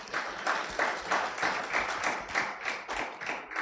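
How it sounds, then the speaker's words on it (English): An audience claps in rhythmic bursts during a live business television broadcast, moderately loud and steady for a few seconds with no voices over it. "I thought we would clap for that."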